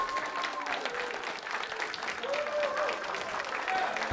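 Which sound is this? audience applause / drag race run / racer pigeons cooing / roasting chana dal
audience applause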